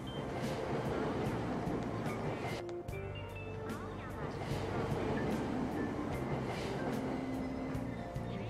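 Train arriving at a station in the Persona 5 video game, a steady low rumbling roll with a brief screech and dip partway through, a voice talking over it.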